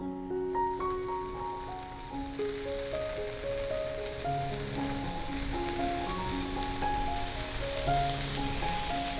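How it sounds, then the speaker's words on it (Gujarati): Garlic bread sticks sizzle steadily in a pan over a low gas flame, a constant crackling hiss under a melodic music track, close and even throughout. "બ્રેડ સ્ટ્રાઇપ્સને આપણે 2 મિનિટ જેવી શેકી લેશું"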